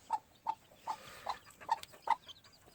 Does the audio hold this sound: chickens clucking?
yes